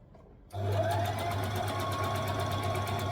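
A sewing machine starts after a half-second of quiet and runs steadily, a fast even mechanical whir with rhythmic needle ticking, close and clear with no voices.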